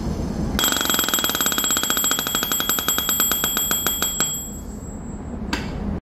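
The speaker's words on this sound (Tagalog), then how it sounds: "Maririnig natin ngayon ang low level alarm kapag pumunta na sa red yung" A rapid electronic beeping low-air-pressure alarm on a breathing apparatus repeats steadily and loudly for about four seconds, then fades to a steady hiss with one more brief beep near the end.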